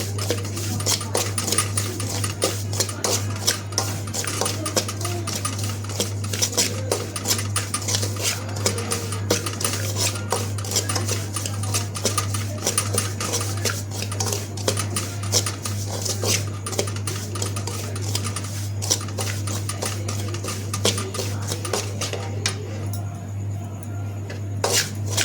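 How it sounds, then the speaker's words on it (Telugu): Bombay rava roasts in ghee in a pan over a low flame, a continuous dense crackle and rapid scraping rattle, with a steady low hum underneath throughout. "1 గ్లాసు బొంబాయి రవ్వ ఫస్ట్ వేపుకుందాం. సిమ్లో పెట్టి వేయించాలి."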